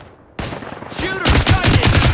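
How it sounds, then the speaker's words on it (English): A flashbang grenade goes off in the Caliber first-person shooter, a sudden loud burst followed by a ringing whine and then dense rapid gunfire-like crackle, all close and loud. "Flashbang!"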